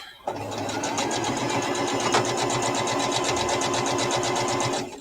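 Sewing machine stitching fabric, running steadily and loudly with a fast, even mechanical chatter for about five seconds, no talking over it.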